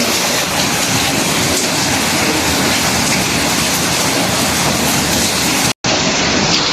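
Heavy tropical rain pours down as a dense, unbroken roar, loud and close throughout, cutting out for a split second near the end before resuming.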